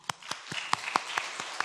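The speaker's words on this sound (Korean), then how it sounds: "박수." Scattered applause from a church congregation during a sermon, a handful of separate claps spaced irregularly and fairly close, with no voices over them.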